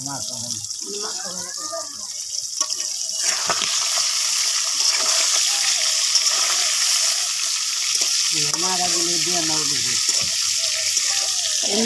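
Garlic hits hot mustard oil with a steady, broad sizzle that swells after a few seconds and holds, while someone speaks over the frying in short stretches at the start and near the end.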